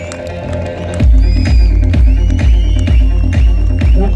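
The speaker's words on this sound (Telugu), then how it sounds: "మంచిగా క్లాప్స్ ఇవ్వాలి సార్. Claps whistles" A hall audience at a success-meet speech event in Hyderabad cheers with steady rhythmic clapping, loud thumping beats and shrill whistles rising over the crowd noise.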